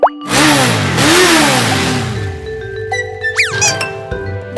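Cartoon-style toy motorcycle engine revving loudly in two rising-and-falling surges, then settling into a lower running note with a few short clinks and sliding tones.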